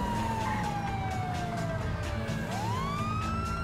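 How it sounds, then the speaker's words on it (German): Police siren in the video game GTA V, a continuous wail sweeping down then rising again, loud and steady over a low engine rumble, with no talk. "Ich guck's mal, wie man die scheiß Sirene ausmacht."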